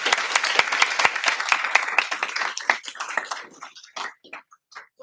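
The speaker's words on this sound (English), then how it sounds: "Can we give these ladies one more round of applause?" An audience applauds a panel of women at a university communication honor society career event: dense, lively clapping for about three seconds that thins out into a few scattered, fading claps.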